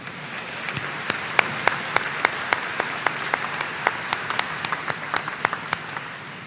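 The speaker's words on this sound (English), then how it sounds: "Let's give them another round of applause." Commencement audience at Washburn University applauding the Washburn Singers, a steady wash of many hands with a few sharper claps standing out, sustained at moderate level throughout.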